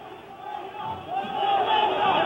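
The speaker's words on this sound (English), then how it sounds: "Hurriya, freedom, and that's what they're chanting" Crowd of protesters in Cairo chanting for freedom, a dense mass of voices swelling louder as it moves forward, with a nearby reporter talking over the roar.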